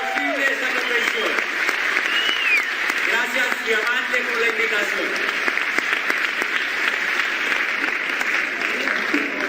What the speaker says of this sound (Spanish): Nuestro gran aplauso esta noche por hacer posible esta convención